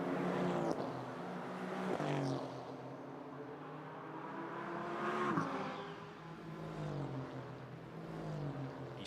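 An Aston Martin GT4 race car, number 26, drives a circuit in Jeddah, its engine droning and rising in pitch through gear changes, heard fairly faint and at a distance with a steady mechanical whine.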